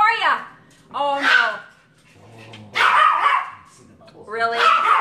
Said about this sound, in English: So Mark's got to get our dog all riled up by blowing bubbles